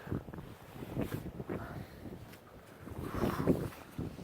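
Strong wind gusts buffet a mountain cliff face at 4 a.m. on the climb up Mount Whitney, roaring and rumbling close to the microphone in uneven surges that build toward the end, with no talking.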